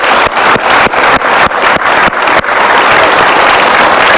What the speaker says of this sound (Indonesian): kita berikan aplaus sekali lagi